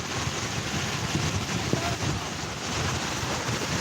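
Strong wind at a beach roars and buffets the microphone in a dense, constant rush, with surf blended into the steady noise and no clear pauses.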